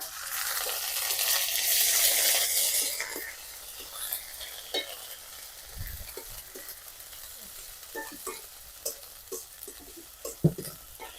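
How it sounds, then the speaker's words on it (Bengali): Onions frying in a pan as ginger, garlic and onion paste go in, a loud burst of sizzling at first that settles into quieter frying with scattered stirring clicks and spoon taps. "তারপরে পেঁয়াজ দিয়ে ভাজতেছি।"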